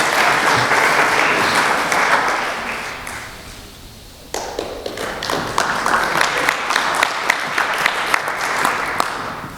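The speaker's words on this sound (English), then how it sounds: "Give them a round of applause." Banquet audience applause, a burst of dense clapping that fades away, then a second round starting abruptly and carrying on strongly to the end.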